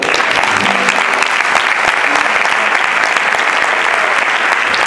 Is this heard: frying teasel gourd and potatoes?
no